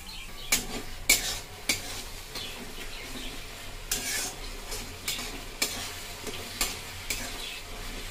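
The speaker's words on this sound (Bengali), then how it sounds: "মশলাটা কষা হয়ে গেছে" Spice paste (masala) for a tangra catfish curry fries in a pan with a steady sizzle, while sharp scraping stirs and clinks of a spoon on the pot recur every second or so, close and fairly loud, with no talking.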